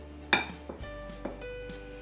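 Bun dough ingredients being stirred together in a mixing bowl, with a few sharp clinks of a utensil against the bowl followed by softer knocks and scraping, heard close up and alone.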